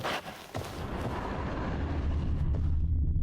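A bomb blasts in The Witcher 3: a sharp crack followed by a heavy, rolling explosion that rumbles on loudly to the end.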